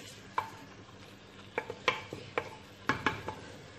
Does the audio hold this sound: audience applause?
no